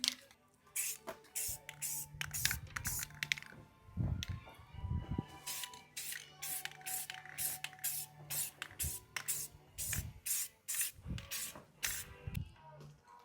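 Light first coat of spray paint on parts of a 1952 GMC truck, a rapid series of short hissing spray bursts in an uneven rhythm, close and fairly clear.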